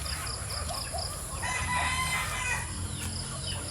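White Tombstone gamefowl roosters crow and cluck on a farm, with overlapping calls at moderate distance against a noisy outdoor background.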